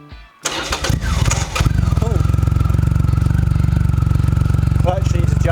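A Triumph Rocket III Roadster motorcycle cranks and fires up after a brief starter whine, then settles into a loud, throbbing, evenly pulsing idle, with a voice briefly heard over it.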